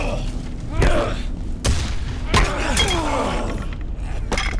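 Shotgun blasts in the horror game Condemned: Criminal Origins, several loud booming shots with sharp crashing impacts spaced about a second apart, heard over a steady game background.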